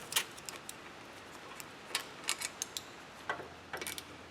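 Ratcheting wrench turning a 12 mm brake caliper bolt on a 2004 Chevy Tahoe, a quiet, irregular series of small metallic ticks and clicks, close up.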